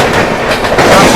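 The Garib Nawaz Express from Kishanganj to Ajmer passes at a crossing, its loud close rumble and rhythmic wheel clatter filling the whole moment.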